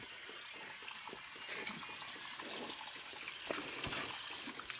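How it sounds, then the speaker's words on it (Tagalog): Water trickling and dribbling steadily at night on a farm, a faint, continuous splashy wash with small irregular drips, no talk over it. "Yan, tubig."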